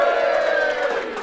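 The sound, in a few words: live podcast audience cheering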